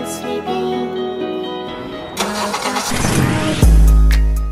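A Mercedes-Benz SL-Class 2025 engine turns over and catches, a swelling mechanical churn building into a loud, deep roar, heard over background music.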